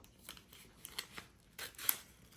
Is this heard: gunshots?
no